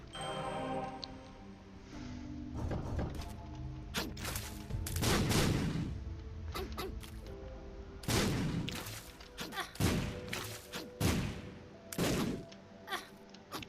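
Enemies fire in The Binding of Isaac, sharp bursts of shots and impacts popping repeatedly amid game effects and meow-like squeals, uneven in rhythm and fairly close.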